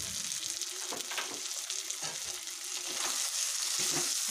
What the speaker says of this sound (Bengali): এবার ভেজে রাখা মাছ, মাছের মাথা দিয়ে দিচ্ছি। পরিমাণ মতো চিনি দিয়ে দিলাম।